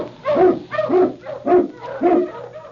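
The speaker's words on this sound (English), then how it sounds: "King, the swiftest, strongest of Eskimo lead dogs, blazes the trail through storm and snow" King, an Eskimo lead dog, barks in an old-time radio drama, five evenly spaced loud, close woofs with a low hum beneath.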